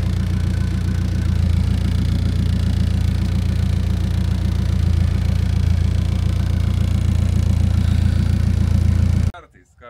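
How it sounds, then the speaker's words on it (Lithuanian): A Volvo car rolling out of a garage, its engine giving a steady low rumble close by throughout, with a voice talking over it before the sound cuts off near the end. "Karočią, mašinytė užvažiavo be jokių problemų"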